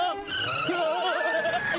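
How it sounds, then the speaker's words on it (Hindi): A cartoon car braking hard and skidding, with a shrill, wavering tire squeal that rises and bends in pitch for almost two seconds, close and continuous. "अरे ब्रेक लगा दो।"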